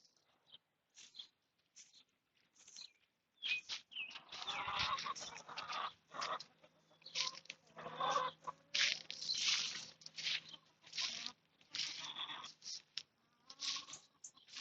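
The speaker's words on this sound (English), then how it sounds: "See our chickens behind us." Chickens cluck and squawk in irregular bursts, fairly close, with short pauses between calls and a faint low hum underneath.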